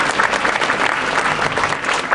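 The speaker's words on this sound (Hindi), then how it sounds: "तालियां दे दो भाई।" Audience applause in a lecture hall, steady dense clapping from a crowd throughout, fairly loud and without talk.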